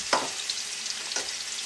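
Hot oil sizzling steadily in a pan, a soft broadband hiss with a couple of brief louder crackles near the start and middle.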